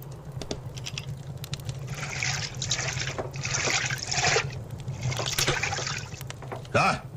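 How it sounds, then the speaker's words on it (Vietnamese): Wine poured from a jug into cups at a banquet in a historical Chinese drama, a soft liquid trickle and patter in several bursts over a steady low hum, with a few short clinks. "rót rượu"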